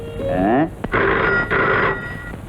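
An old landline telephone bell rings loudly and close in a Tamil film scene, sounding in two or three rattling bursts separated by brief gaps, with no talking over it.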